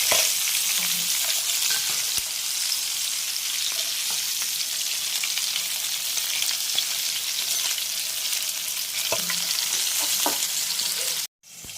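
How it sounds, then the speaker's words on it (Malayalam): Chicken pieces half-frying in a pan for an easy chicken curry, giving a steady close-up sizzle throughout with a few light clinks, then a brief drop near the end. "ചിക്കൻ നമ്മൾ പകുതി വേവ് വറുത്തെടുത്തിട്ടുണ്ട്."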